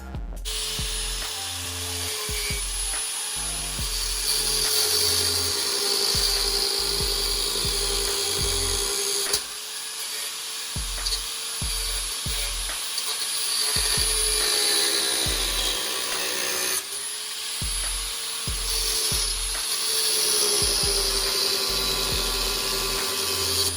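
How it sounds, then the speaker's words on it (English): Grinder cutting down the protruding ends of bolts so they can be hammered into rivet-like heads, while fitting a fish finder; a loud steady whine runs throughout, pausing briefly twice with low thumps between. "we're gonna go ahead and kind of grind them off"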